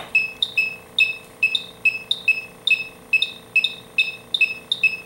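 A cheap handheld refrigerant leak detector sniffing R410A at about 5 ppm, giving a quick, regular series of sharp electronic beeps, roughly two per second, close and clear over a faint steady hum.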